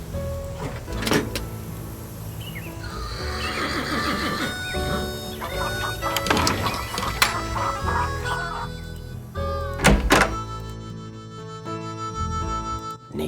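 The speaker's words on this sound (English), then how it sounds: "Okay, chickens, come and get it." Chickens cluck and squawk while being fed in the video game Nancy Drew: Secret of Shadow Ranch, with repeated bursts of clucking over a steady background and a few sharp mechanical whirs, no talking.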